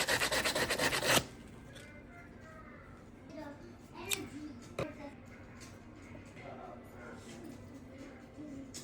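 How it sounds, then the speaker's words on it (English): Rapid, loud rasping strokes of sanding a wooden block roof for about a second, then quiet with a couple of faint knocks and soft background sounds. "Sanding."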